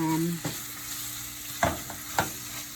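Ground beef for Jamaican beef patty filling is stirred in a hot pan, with three distinct spoon scrapes over a steady, close background sizzle.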